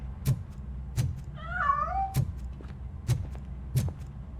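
A cat in the video game Robocop Rogue City gives one drawn-out wavering meow, close and clear, between several sharp, evenly spaced knocks or clicks over a quiet, low hum.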